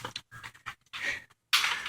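A dog pants on a walk: quick, breathy huffs in short bursts with brief gaps, close by, followed by a louder rush of breath or movement noise, with no talking.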